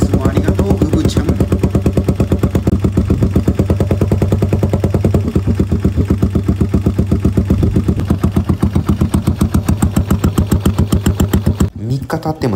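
A Yamaha SR single-cylinder motorcycle fires up on the first kick and settles into a loud, close, steady thumping idle with even beats, ending in a brief rustle near the end.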